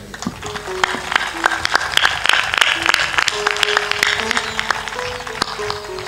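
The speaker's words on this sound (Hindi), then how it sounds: "ताली जोर से बजाइए।" Audience clapping at a Hindu religious discourse, with sharp individual claps over a bed of music and sustained tones, fairly loud and close, the clapping irregular rather than a uniform roar.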